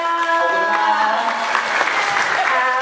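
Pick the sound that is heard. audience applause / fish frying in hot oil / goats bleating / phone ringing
audience applause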